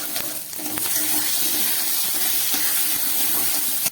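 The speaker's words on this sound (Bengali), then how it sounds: "কারি পাতার সঙ্গে একটু সর্ষে ফোড়ন দিয়ে দিলাম।" Mustard seeds and curry leaves crackle in hot oil for a savory patishapta, a dense, steady broadband sizzle that holds close and loud throughout before cutting off sharply at the end, with no talking.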